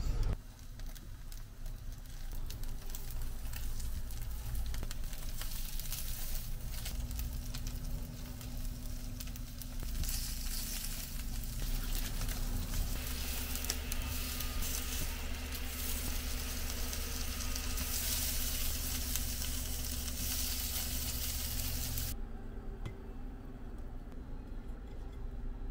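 Food cooking in butter in a small frying pan, a steady dense sizzle and crackle running loud and close for about twenty seconds before cutting to a quieter background near the end.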